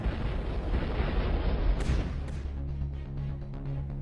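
Gunfire and booming blasts from archival war footage of the Nineteenth Route Army fighting Japanese forces, a dense loud barrage for about two seconds that then gives way to a lower rumbling hum.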